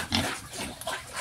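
A native backyard pig grunts and squeals at feeding time, several close, loud, overlapping calls in quick succession with a busy, noisy farmyard background.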